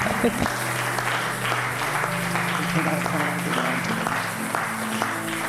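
A church congregation applauds the Lord, a sustained wash of clapping from many hands, with a preacher's voice and music carrying through over it.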